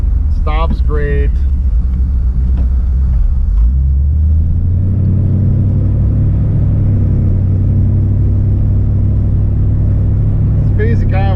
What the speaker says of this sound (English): But car gets up and goes nicely, stops great.